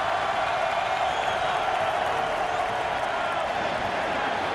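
Stadium crowd at an Eagles vs Giants football game, a steady dense roar of cheering fans, broad and continuous, with a commentator talking over it.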